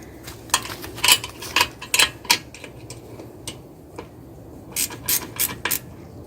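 Kickstand bolt on a Lectric 2.0 e-bike being tightened with a torque wrench: bursts of sharp ratcheting clicks in short groups, close and moderately loud, with brief pauses between strokes.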